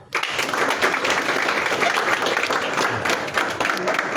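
Dense, loud applause from an audience greets two ustad guests at a master-disciple ceremony in Lahore, bursting in at once and continuing evenly without a break.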